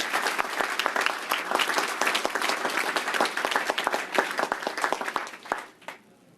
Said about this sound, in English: Let's give them all a group round of applause.